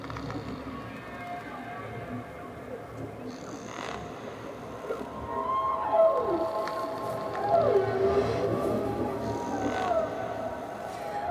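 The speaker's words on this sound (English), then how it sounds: "The loudest sound made by any animal, the blue whale" Blue whale song recorded underwater: long, low moaning tones sliding and sweeping, with faint higher whistling calls over a steady rumbling ocean background, moderately loud and continuous throughout.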